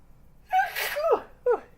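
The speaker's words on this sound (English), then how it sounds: "Oh, I'm going to sneeze." A single sharp sneeze after a quick indrawn breath, followed by a brief second burst, close and alone in a quiet room.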